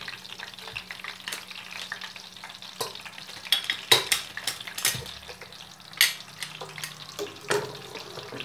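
Pork fat and cracklings fry in a pot, giving a continuous sizzle broken by scraping stirs and clinks from a utensil, with no talking.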